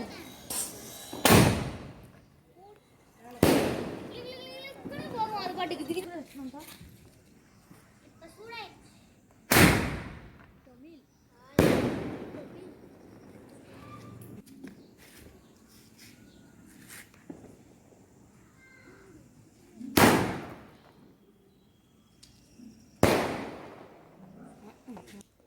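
Several sharp Diwali firecracker bangs burst out at irregular intervals, loud and close, with chatter and crackling debris between them.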